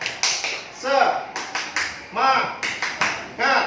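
A classroom group performs a rhythmic 'tepuk semangat' clapping pattern: sharp, close claps in short, patterned bursts, with voices chanting along between the beats.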